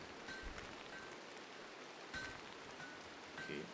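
Rain in the RimWorld colony-building game patters in a steady, soft wash over an unroofed area, faint and continuous with no speech.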